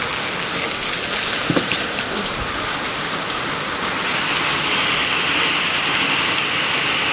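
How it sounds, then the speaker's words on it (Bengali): Steady heavy rain falls outside, a dense continuous hiss of drops on surfaces that stays loud and even throughout, with no voices. "দেখুন বারিশ"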